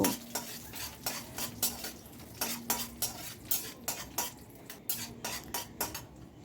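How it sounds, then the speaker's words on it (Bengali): Chopped almonds fried in ghee in a pan are stirred with a utensil. Regular scraping strokes about every half second sit over a soft sizzle, close and clear, with no voice. "আমন্ড বাদামগুলো যে কুচিয়ে রেখেছিলাম সেটা দিয়ে দিলাম। দিয়ে এটাকে একটু ফ্রাই করে নেব।"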